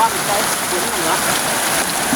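Rain falling outdoors during a fishing trip, a steady close hiss of rainfall that holds at an even level throughout.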